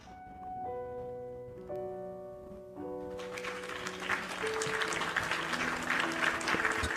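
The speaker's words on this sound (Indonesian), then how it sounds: "Suara tepuk tangan kedengeran nggak?" Hand clapping from an audience, beginning midway after sustained musical tones and continuing as a dense moderate wash of applause under the fading music.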